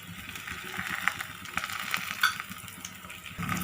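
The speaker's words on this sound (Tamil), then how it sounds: "எண்ணெய் நல்லா சூடாக இருக்குது. இப்போது இது மேலே பரோட்டாவை போட்டுடலாம்." Aloo paratha fries in a hot oiled pan, a faint, steady sizzle with soft crackles and a few light clinks, nearby and without voices.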